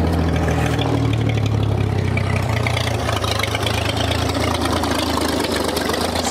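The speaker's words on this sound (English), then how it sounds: "Sitting there idling." The engine of an old 1962 AMC Rambler car idles steadily at close range, a continuous low rumble with a slightly uneven beat throughout.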